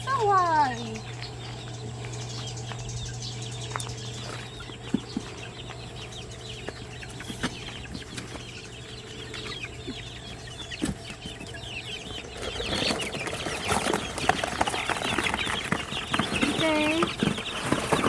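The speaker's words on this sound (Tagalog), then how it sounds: "Tambak sa mga sisiw." Seventeen young chicks peep while being shifted into an improvised pen, with high chirps scattered at first and then a dense, busy chorus of peeping near the end over steady background hum.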